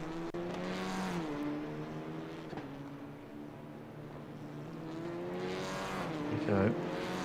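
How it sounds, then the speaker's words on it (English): Renault Clio race cars rasp out onto the circuit in a sim racing game, their engines revving up and down in loud, rising and falling waves, with a brief tire squeal near the end. "Beautiful, beautiful noise, isn't it, of the Clios rasping their way out onto the race circuit."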